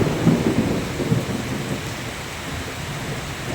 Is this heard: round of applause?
no